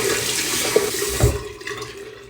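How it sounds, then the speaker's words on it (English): Tap water runs and splashes into a sink during a face rinse, steady at first and then trailing off as the flow is disturbed and stops, heard up close with no talk. "Just go ahead and start rinsing it off."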